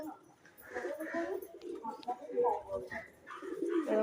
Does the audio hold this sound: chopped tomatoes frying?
no